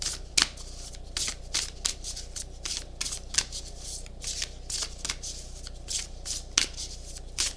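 Oracle cards being shuffled by hand, a quick run of crisp riffling snaps and flutters repeating steadily at close range, with no one speaking.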